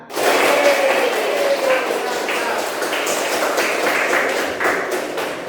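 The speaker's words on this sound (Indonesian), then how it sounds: "Tepuk tangan." A classroom group claps hands together, dense clapping ringing out right away and continuing steadily with slightly uneven bursts across several seconds, close and fairly loud.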